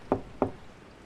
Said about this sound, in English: The knocking came again, louder.